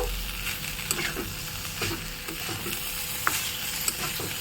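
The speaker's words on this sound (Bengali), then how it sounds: "ঘিটা দিয়েও বেশ সুন্দরভাবে নেড়ে চেড়ে নেব।" Ghee is stirred into rice frying in a pan, a continuous sizzle with soft scraping strokes and a couple of sharp clicks from the utensil against the pan.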